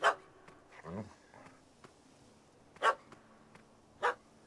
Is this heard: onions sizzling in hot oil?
no